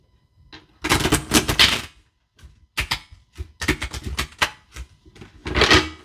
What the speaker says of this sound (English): I'm going to shuffle this new deck three times.